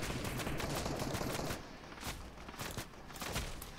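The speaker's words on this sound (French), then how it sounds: "ça tire dans tous les sens" Gunfire in the video game Fortnite, rapid bursts of shots crackling densely and loudly at first, then thinning into scattered, slightly quieter volleys.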